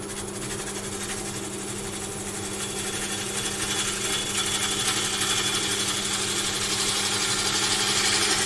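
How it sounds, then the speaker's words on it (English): A lathe spins a piece of African blackwood while a turning gouge rolls and twists through the cut, giving a steady motor hum with a constant high tone and a scraping, rattling cutting texture, close and continuous. "Roll the gouge over, twisting as I get to there. roll the gouge back the other way, twist away"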